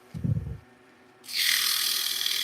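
A woodturning hollowing tool cuts into spinning wood, starting after a brief low thump with a loud, steady hissing scrape that holds close and continuous to the end.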